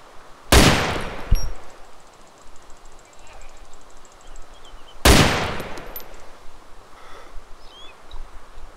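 Two loud, sharp rifle shots about four seconds apart from an SR-25 in the DayZ video game, each with a short ringing tail over faint wind and rustling.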